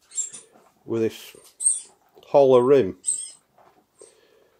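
A dog frantically squeaks a toy ball in the background, with short, high squeaks scattered beneath a person talking nearby.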